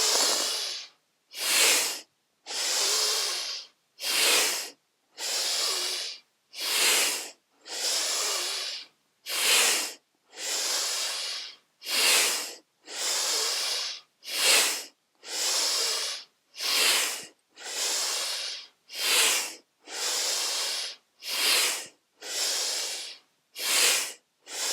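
Forceful rhythmic breathing during a yoga practice, roughly twenty sharp, hissing breaths pumped in a steady even cadence about one per second, close and loud, each breath separated by a brief silent gap.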